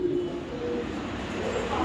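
Racing high-flying giribaz pigeons of a 65-kilo Mohakhali bloodline coo softly and steadily, the low murmuring calls sitting under a continuous background hiss for the whole stretch.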